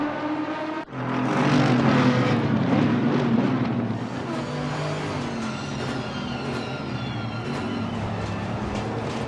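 Aston Martin V8 Vantage race cars battle in a sim racing game, their engines roaring loud and close with rising and falling revs as gears shift and the cars pass.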